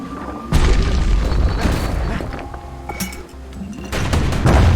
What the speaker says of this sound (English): Boy, I like the hand grenades.